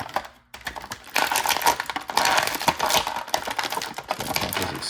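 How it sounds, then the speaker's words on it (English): Plastic G.I. Joe toy packaging crinkles and crackles in dense, close bursts after a brief quiet start, continuing busily to the end. "again, more crinkling noise, so if you have headphones on, you might want to turn them down"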